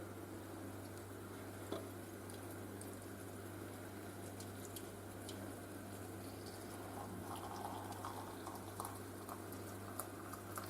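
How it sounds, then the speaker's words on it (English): Water pours into a Winnie the Pooh cup for mint tea, a soft, steady liquid rush with light patter over a constant low hum, faint and unbroken. "add some water"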